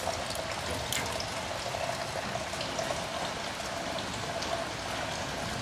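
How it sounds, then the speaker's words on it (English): Antifreeze drains out of an old Ford tractor in a steady splashing, trickling pour that continues evenly throughout, with no talking. "The first thing I ought to do is drain the antifreeze."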